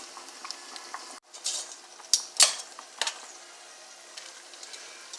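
A metal utensil scrapes a pan during deglazing before chard goes in, a few sharp scrapes and clinks over a faint sizzle, close and intermittent.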